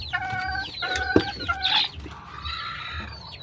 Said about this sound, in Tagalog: Saka meron ditong isa pang inahin. Saka itong mga sisiw na yun.